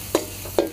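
Garlic stir-frying in plenty of vegetable oil, two short bursts of sizzling as the spatula turns it, close and clear with no voice.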